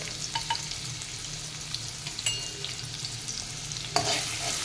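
Bay leaf, dried red chili, onion and a ginger-chili-garlic paste fry in a pan for a Rajasthani papad curry, a steady soft sizzle broken by light stirring scrapes and a sharper clatter near the end.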